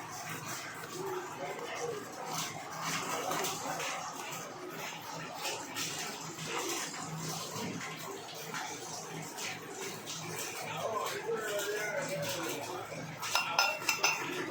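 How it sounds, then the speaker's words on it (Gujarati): Small steel bowl tapping and pressing a sweet kesar pista copra pak mixture flat in a tray, giving a busy run of close clinks and scrapes of metal dishes throughout, with a few sharper knocks near the end. "હવે આપણે આ રીતે એક વાડકીની મદદથી આ રીતે તેને થપથપાવી દઈશું"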